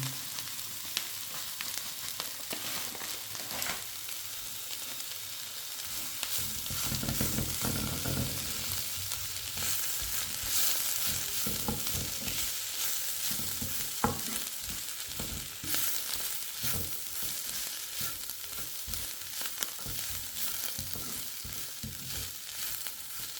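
Onions frying in a pan for Jaffna-style cooking, a continuous crackling sizzle that swells and stays loud, with scraping stirs and occasional clatters of the utensil throughout.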